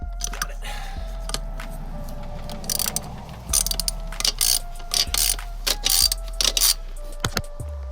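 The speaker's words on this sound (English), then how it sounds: "I'm also using a deep socket 10mm because I cannot reach this otherwise." Ratchet clicking as a 10mm deep socket backs out bolts while an oil catch can goes onto a BMW N54/N55 engine, with a steady run of close, crisp clicks followed by louder bursts of quick ratcheting.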